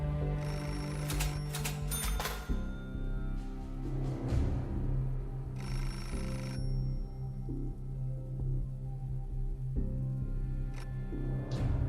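A phone rings in the video game Beholder, sounding as a bright repeating electronic ring over a steady bed of game music and ambience.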